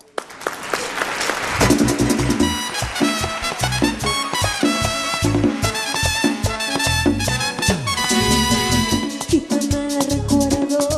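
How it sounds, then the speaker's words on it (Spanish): A live show audience applauds loudly while music plays, with clapping spread across the crowd beneath a bright, tonal band accompaniment for several seconds. "Fuerte el aplauso"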